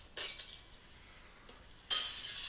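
Two brief, faint glassy crashes in the Happy Wheels game, one near the start and one near the end, with quiet gaps between.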